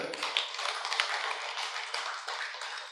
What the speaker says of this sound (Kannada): ನಿಮ್ಮೆಲ್ಲರಿಗೊಂದು ಜೋರಾದ ಚಪ್ಪಾಳೆ ನೋಡ.